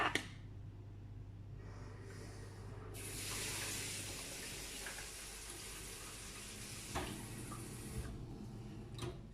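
Chilled water is poured for homemade pizza dough, a steady splashing hiss that swells partway through and continues with light clatter, fairly close and without talk.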